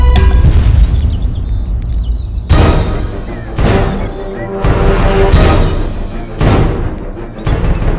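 Repeated booming blasts of gunpowder explode in a dramatic period-drama scene of Maratha-era sabotage, several loud broadband bursts arriving at intervals over a continuous rumbling bed.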